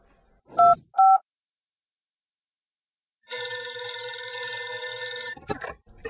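A telephone rings loud and alone, with two short tones and then a longer sustained electronic ring, followed by brief noise at the end.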